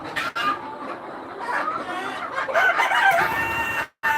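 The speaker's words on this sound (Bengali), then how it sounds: "আমার এখানে এক হাজার মুরগি আছে দেখতে পাচ্ছেন" A crowd of chickens on a thousand-bird poultry farm cluck and crow continuously, with overlapping calls rising and falling at close range for a few seconds, and no talk.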